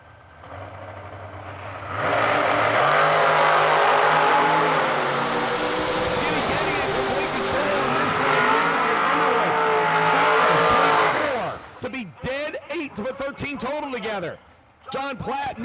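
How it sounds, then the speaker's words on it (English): A drag racing dragster launches and roars down the strip at a New Year Nationals event, a loud sustained engine blast for about nine seconds, then an announcer talks over the crowd and track noise. "489 the dial in for John Platt Jr. in the Takash Racecraft dragster"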